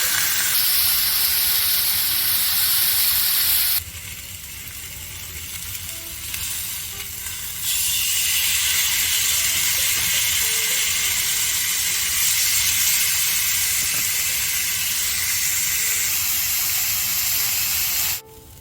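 Thai crying tiger steak searing in a hot pan, a loud, dense, continuous sizzle and hiss that briefly drops lower then surges back up, running steadily without any talking until it cuts off near the end.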